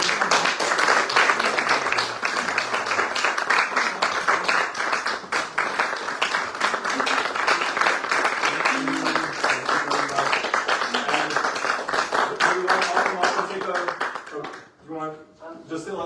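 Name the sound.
audience applause at a phonics performance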